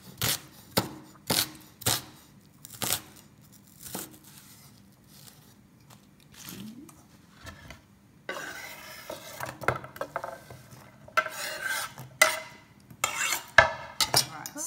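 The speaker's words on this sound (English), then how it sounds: "chop this as thick or thinly as you want because it's all going to go in the blender at the end" A knife chops pumpkin for soup on a cutting board, first in spaced single thumps, then in quicker, busier cuts with clatter of kitchen items, close and fairly loud with no talking.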